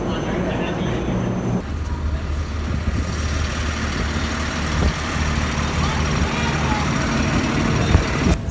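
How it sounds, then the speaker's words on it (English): A Boston city bus hums and rumbles from inside, a steady engine drone with rattles and a shift in tone partway through, with passengers talking under the noise. "So we're in the bus now."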